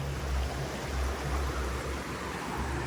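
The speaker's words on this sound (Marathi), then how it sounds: "सुंदर अशी नदी आहे बारवी नदी मागे." The Barvi river flows in a village setting, a dense, steady rushing wash of water that fills the scene without a break.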